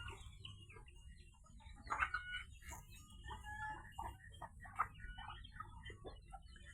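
A rooster and hens cluck softly around a rural home yard, scattered short clucks and calls rising over a low steady background hum, fairly faint and spaced out.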